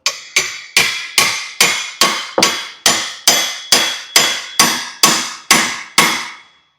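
Steel hammer tapping a keyway into a part on a 1000cc golf cart, fourteen sharp, evenly spaced ringing strikes close up, each decaying quickly, with no talk.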